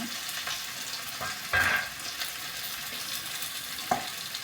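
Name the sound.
onion and green chilies frying in oil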